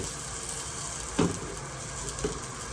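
Brisket sears in a pan over high heat, giving a steady close sizzle with a couple of brief clunks as the meat shifts.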